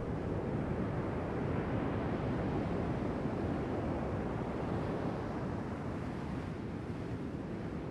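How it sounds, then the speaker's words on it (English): Ocean waves wash in a continuous, dense roar of surf, equalized with the highs and some lows cut so the midrange dominates, steady and enveloping with no voices. "a wave sound for ambience"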